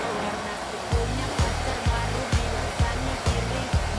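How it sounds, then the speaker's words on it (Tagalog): A loud, steady blow dryer roars throughout while drying a dog, with regular thumping bumps about every half second underneath. "Hindi kita mag-blower pag nandiyan ka."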